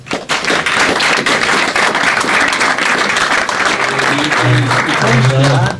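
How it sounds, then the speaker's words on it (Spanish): Loud, sustained applause from an audience thanking a professor after a physics and philosophy talk, dense clapping throughout with a voice briefly heard near the end. "un aplauso al profesor"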